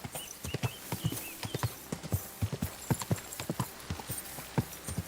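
Horse hooves gallop close by in Kingdom Come, sharp irregular clip-clop thuds falling rapidly and loudly across the whole stretch.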